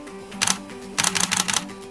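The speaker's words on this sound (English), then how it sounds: "If I push the button here, you can watch the shutter activate, or one shot at a time." Canon 50D camera shutter firing, one sharp mechanical clack followed by a rapid burst of about six close clicks in continuous shooting, with no voices.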